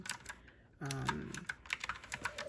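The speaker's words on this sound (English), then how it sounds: "I'm just going to really be typing" Rapid, irregular clicking of keys on a computer keyboard, close and fairly quiet, with a brief tonal voice-like sound partway through.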